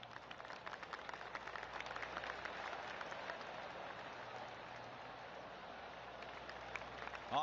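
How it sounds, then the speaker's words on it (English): Gentle golf clapping scattered around the course in PGA Tour 2K25, a faint, steady patter of distant applause running the whole way through with a brief louder swell at the end. "Oh, I can hear the golf claps around the course."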